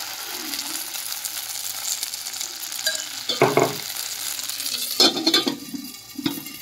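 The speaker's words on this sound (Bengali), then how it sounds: "এবার কড়াইতে ব্যাটারটা ঢেলে দিচ্ছি।" Rice batter for chitoi pitha hits an oiled aluminium wok and sizzles steadily, with a few sharp scraping and clattering bursts of utensils against the pan partway through and near the end.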